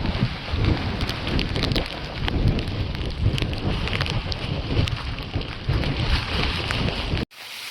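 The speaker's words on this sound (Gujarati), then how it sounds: "વરસાદ ચાલુ છે એટલે ફોન બંધ." Heavy monsoon rain pours steadily on a Girnar mountain trail, a dense close hiss of drops continuing without a break before cutting off abruptly near the end.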